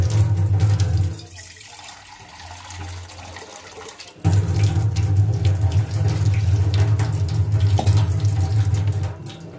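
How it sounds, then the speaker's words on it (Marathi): Water pours loudly and steadily into a steamer pot for cooking momos in a home kitchen. The stream stops for a few seconds, then resumes just as strongly. "यात आहे ना पाणी घालायचं"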